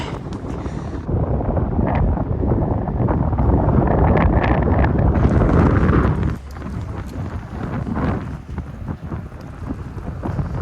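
Strong wind buffets the microphone on a city street in North York, Toronto, in a loud, rumbling roar that drops off abruptly partway through, then keeps gusting more quietly.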